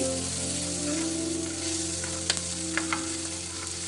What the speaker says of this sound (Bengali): এটাকেও একটু হালকা ভেজে নেব যাতে গন্ধটা চলে যায়